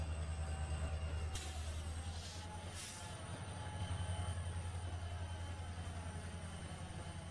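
A train rolls around Horseshoe Curve in the video game Trainz Simulator 2, with a steady low rumble of wagons and wheels and occasional high wheel squeals over the continuous run.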